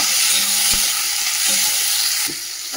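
Ivy gourd, potato and onion sizzle and crackle loudly in hot oil in a pan, with a few clinks of stirring.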